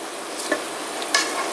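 Pork ribs sizzle in a pan with softened onion and carrot, a steady close frying hiss broken by a couple of brief stirring scrapes.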